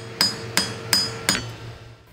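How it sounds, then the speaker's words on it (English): A hammer's peen strikes a hand-forged silver spoon shank four times in an even rhythm. Each blow rings sharp and close, and a metallic shimmer decays after it. "He's gradually lengthening the shank with the peel of the hammer."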